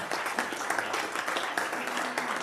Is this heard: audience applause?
yes